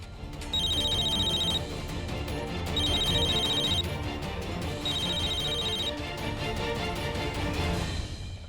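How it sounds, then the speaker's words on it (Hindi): A phone rings repeatedly on an outgoing call, bursts of an electronic ringback tone with a short pause between each, steady and fairly loud over a faint musical background, with no one speaking. "उसको सुजॉय को फोन लगा तो"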